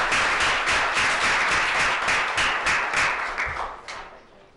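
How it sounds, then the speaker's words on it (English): Audience applause for Council Rock High School South students: steady, dense clapping from a crowd, loud and sustained, then thinning and fading out toward the end. "one final round of applause for Council Rock High School South's best and brightest"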